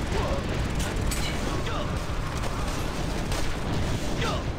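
Sniper gunfire in the third-person shooter Armed & Dangerous, dense crackling shots and mechanical clatter over a busy, noisy battle bed, heard fairly close with no clear pauses.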